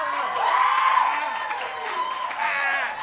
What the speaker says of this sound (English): let's give a nice round of applause to one of our favorite professors in our program